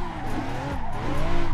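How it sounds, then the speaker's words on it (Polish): A car drifting in Assetto Corsa, driven on a Logitech G29/G920 wheel, sends out a sustained, loud tire squeal over a steady engine drone. The squeal wavers in pitch and swells toward the end, with no voices present. "i możemy sobie w spokoju driftować"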